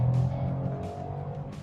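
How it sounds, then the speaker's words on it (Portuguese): Chevrolet Onix with a three-cylinder turbo engine accelerating on a track, a low steady engine drone heard from inside at moderate level, without speech. "dar aquela aceleradinha um pouco maior aí para sentir o turbo desse carro"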